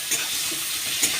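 Chopped onion frying in hot oil while being stirred, a bright continuous hiss with a couple of brief scrapes, close and fairly loud.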